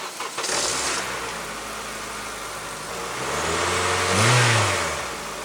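A Jeep engine cranks and catches, then settles into a steady idle before rising into a loud rev near the end, close and alone without voices.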